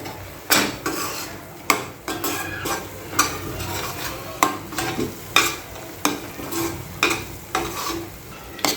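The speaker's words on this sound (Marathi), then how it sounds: "आता हे वाटण जे आहे ते आपल्याला छान ह्या तेलामध्ये परतून घ्यायचं आहे" Ground spice paste stir-fried in oil in a pan for an egg curry, with a low sizzle under regular, sharp spoon strokes scraping and knocking against the pan about once a second.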